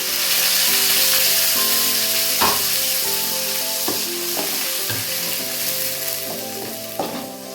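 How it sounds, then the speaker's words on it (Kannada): Tomato going into a pan of ginger and garlic already frying for a red fish curry, a steady loud sizzle with stirring scrapes and a few sharper clatters near and alone. "ಶುಂಠಿ ಬೆಳ್ಳುಳ್ಳಿ ಸಹ ಚೆನ್ನಾಗಿ ಫ್ರೈ ಆಗಿದೆ ಇದಕ್ಕೆ ನಾನು ನೋಡಿ ಈಗ ನಾನು ಇದಕ್ಕೆ ಟೊಮ್ಯಾಟೊ ಹಾಕೋತಾ ಇದ್ದೀನಿ"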